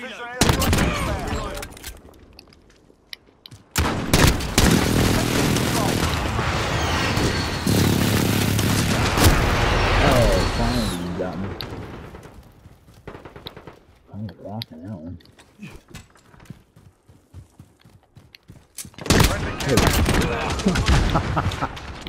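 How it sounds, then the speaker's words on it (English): Call of Duty: Modern Warfare battle with a precision airstrike: heavy blasts and rolling bursts of gunfire erupt loud and close, fade into scattered shots, then surge again, with a radio voice and a player talking in between. "friendly precision airstrike inbound"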